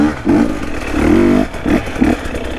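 KTM 250 two-stroke dirt bike ridden on a rutted trail, its engine revving in loud, close bursts with short pauses between throttle blips.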